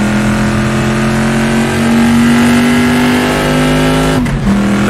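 A classic 1960s Chevrolet Stingray Corvette races flat out in the Assetto Corsa racing game. The engine's loud, steady roar climbs slowly in pitch, then a quick gear shift drops it just before the end.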